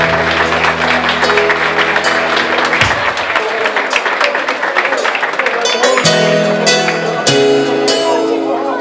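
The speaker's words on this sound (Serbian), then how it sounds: "Ajmo jedan aplauz." Wedding guests break into loud applause during a reception, with dense clapping layered over background music and occasional voices throughout.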